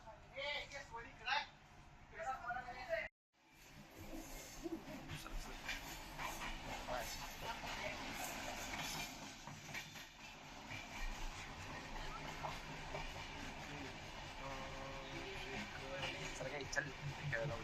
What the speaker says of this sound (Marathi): दौंडच्या रेल्वे स्टेशनहून आमची ट्रेन निघालेली आहे